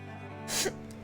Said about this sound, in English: You just sneezed on me.